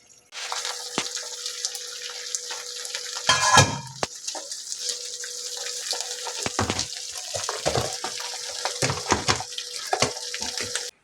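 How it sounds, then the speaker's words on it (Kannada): Rice paper cooks on a hot tava at home, giving a continuous close hiss with scattered crackles and bubbling pops and one brief louder clatter partway through. "ಇದು ನೋಡಿ ಕೊತ ಅಂತ ಹಿಂಗೆ ಕುಕ್ ಆಗ್ತಾ ಇದೆ"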